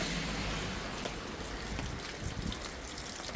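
Rainwater rushing through overloaded street drainage channels during heavy rain in Portugal, a close, steady broadband gush and splash that stays fairly even throughout, with no voices.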